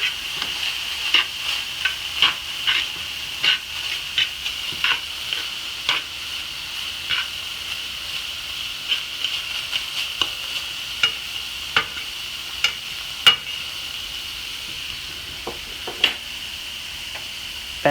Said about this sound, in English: mix that bacon in with the hamburger